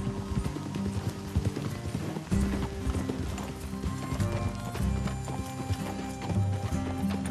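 Horse hooves clip-clop in the Red Dead Redemption 2 video game, a steady rhythm of hoofbeats alongside faint snorting and game music in the background.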